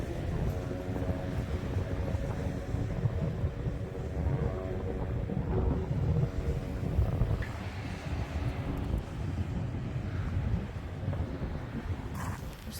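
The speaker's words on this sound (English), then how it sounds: "Got away from the water because it was just too windy." Strong winter wind buffets a beach in a steady, loud broadband roar with gusting swells throughout, no voices.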